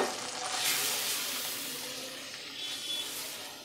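Ginger-garlic paste and dry spices frying in a pan give a soft, steady sizzle with a light scraping texture, fairly quiet and gradually easing off.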